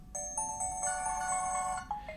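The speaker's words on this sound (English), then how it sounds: "with so many different songs you can pick from in terms of your ringtones" An HTC phone plays a bright, melodic ringtone, a run of clear chiming tones lasting about two seconds, loud and close with no voices.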